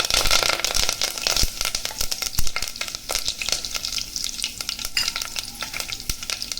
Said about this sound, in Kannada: ಎಣ್ಣೆ ಕಾಯ್ತಾ ಇದೆ, ಸ್ಪೈಸಸ್ ಕೂಡ ಫ್ರೈ ಆಗ್ತಾ ಇದೆ. ಸೊ ಈಗ ಇದರಲ್ಲಿ ನಾವು ಕರಿಬೇವು ಸೇರಿಸ್ಕೊಳ್ಳೋಣ.